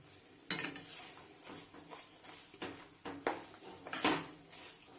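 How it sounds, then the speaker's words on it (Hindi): Moong dal halwa with khoya being stirred and roasted in a pan, with soft scraping spoon strokes and occasional sharp clinks of utensil against metal over a faint low sizzle, close and fairly quiet. "इसको भी हम इसको डालकर अच्छे से भून लेंगे"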